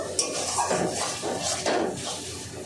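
A spoon stirs half-cooked masala with four green chillies in a pot for mutton kosha, giving repeated scraping and clinking strokes close by, with a faint sizzle underneath.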